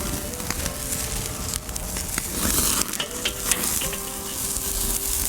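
A ribeye steak sizzles loudly on a charcoal grill, a dense, continuous hiss and crackle with scattered pops and scraping, close and steady for several seconds, with no one talking.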